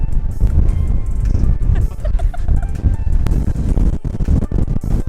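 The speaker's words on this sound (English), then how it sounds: "Here we are, so windy." Loud, buffeting wind roars across the microphone without pause in Death Valley National Park, rumbling low and gusting unevenly.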